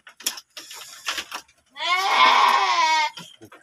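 A Garut sheep in a pen gives one long, close, wavering bleat lasting over a second, preceded by shuffling and small clattering noises.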